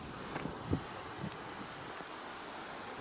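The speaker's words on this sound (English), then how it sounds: "I don't hear any birds, just the wind." Wind blowing steadily outdoors over a winter pond at Hemlock County Park, a soft continuous rush with a few faint rustles and bumps early on.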